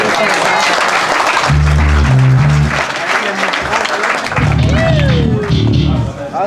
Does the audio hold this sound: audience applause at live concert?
yes